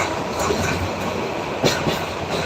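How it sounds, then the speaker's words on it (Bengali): The Kurigram Express passenger train rumbles steadily along the tracks toward Dhaka, Bangladesh, loud and close, with a brief clack of wheels over a rail joint and no voices. "আমরা আছি এখন কুড়িগ্রাম এক্সপ্রেস ট্রেনে ঢাকা অভিমুখী"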